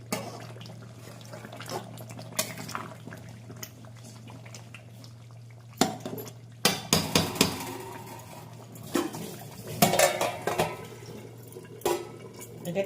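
Meat curry stirred in a pot, with intermittent scraping and clanking of a spoon against the vessel over a low steady hum, strokes growing busier and louder in the second half.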